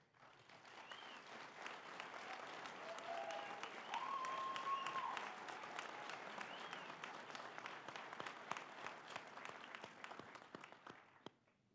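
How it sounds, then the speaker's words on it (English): Applause at a winter graduation ceremony for Eagle Academy, a sustained wash of clapping from a large audience that swells and then gradually fades away, with a few louder individual claps near the end. "Please give a round of applause."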